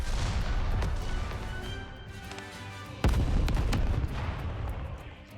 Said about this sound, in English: A huge explosion erupts from afar.